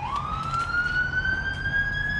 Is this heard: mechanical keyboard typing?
no